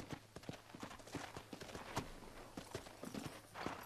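Steady clip-clop of horse hooves trotting at a brisk, even rhythm, fairly close, with no talking, in the video game Red Dead Redemption.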